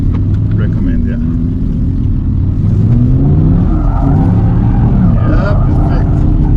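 A 2023 Audi R8 GT engine revving hard in second gear while drifting, loud and close with rising and falling pitch, tire squeal mixed in and a voice talking over it.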